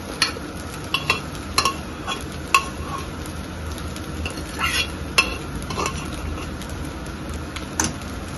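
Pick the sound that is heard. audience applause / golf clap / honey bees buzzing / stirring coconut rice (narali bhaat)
stirring coconut rice (narali bhaat)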